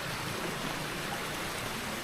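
Small stream of clear, natural water flowing along a ditch at a quiet tea garden resort in Subang, a steady soft broadband trickle and rush continuing evenly throughout with no voices.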